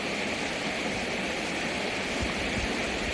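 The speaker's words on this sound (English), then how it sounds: "I keep listening to the beautiful sound of the waterfall" Waterfall at the end of a scenic hike, a constant broadband rush of falling water, steady and enveloping with no pauses or voices.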